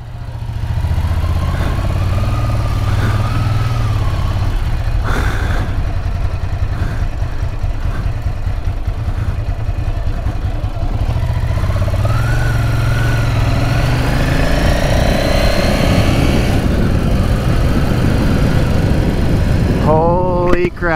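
A 2006 Ducati Paul Smart 1000, a rare collector's motorcycle, runs steadily and loudly at close range with a constant low engine drone through most of the span, with wind noise and a brief rev near the end.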